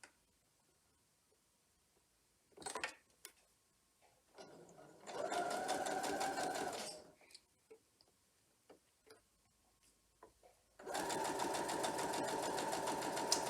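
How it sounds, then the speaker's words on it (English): A sewing machine stitches triangle star quilt block pieces in two bursts of steady rapid whirring, a short run and then a longer one, with light clicks and handling noises in the quiet gaps between. "That's where we're going to start sewing."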